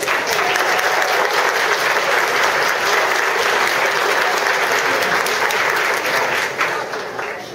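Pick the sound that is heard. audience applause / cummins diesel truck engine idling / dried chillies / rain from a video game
audience applause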